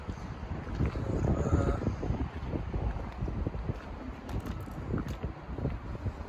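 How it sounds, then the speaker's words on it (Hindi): Steady wind blowing on a cool, cloudy evening in the UAE, near the Sheikh Zayed Grand Mosque, with continuous buffeting rumble and microphone gusts throughout, no talking. "इस टाइम बहुत अच्छी हवा चल रही है"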